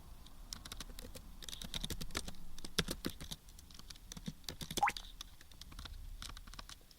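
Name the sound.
typing on a computer keyboard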